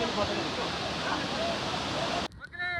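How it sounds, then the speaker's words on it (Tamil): A monsoon waterfall in the Vagamon hills of Kerala roars as a steady, dense rush of falling water, then cuts off abruptly near the end, leaving a few quieter sounds. "கட்டிக்காய வாட்டர் ஃபால்ஸ் பாத்தீங்கன்னா வேற லெவல்ல போயிட்டு இருக்கு"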